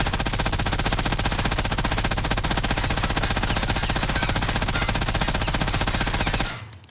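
MG82 machine gun firing in a video game, a single unbroken burst of very rapid, evenly spaced loud shots lasting about six seconds before cutting off abruptly.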